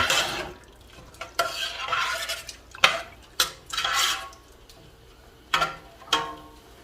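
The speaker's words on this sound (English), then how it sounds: "We're gonna mix them good." Stirring a rice mixture in a pot for Egyptian roz maamar, rice with cream, with repeated scraping strokes of a utensil against the pot and occasional sharp clinks in an irregular rhythm, close and fairly quiet.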